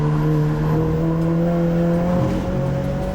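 A race car is driven hard around a circuit, its engine a loud, sustained, steady drone heard close up with a slight pitch dip near the end and no talking.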